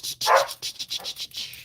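Dogs bark repeatedly in quick, loud, close yaps after loud bangs outside, a rapid burst of barking with no talk over it.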